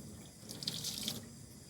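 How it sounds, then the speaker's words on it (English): Tap water runs gently into a sink while acrylic paint is being cleaned off a palette knife, a soft, quiet splashing stream with faint dripping, close by and without voices. "I'm going to turn the water on gently"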